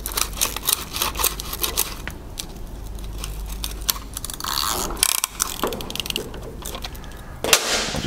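A quarter-inch-drive ratchet tightens a piston ring compressor on an Evinrude 150 outboard engine, giving close, steady bursts of rapid clicking with brief pauses and a sharp metallic clack near the end.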